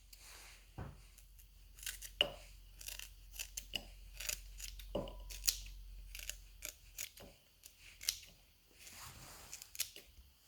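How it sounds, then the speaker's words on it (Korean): Scissors snip through red cabbage for a science experiment, with a series of quick, irregular cuts close by and soft crunching between them, and no talking. "먼저 붉은 양배추를 가위로 잘라 비커에 담습니다."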